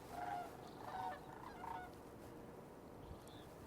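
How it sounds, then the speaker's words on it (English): Geese honking at a distance outdoors in winter near a garden deck, a few faint calls in a loose cluster early on and one more later, over a low background rumble. "Oh, geese."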